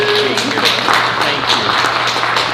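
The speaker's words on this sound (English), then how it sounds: "We give Lauren a round of applause." A church congregation claps for Lauren at a Sunday worship service. The applause is loud and steady, a dense patter that fills the room, with a low hum underneath.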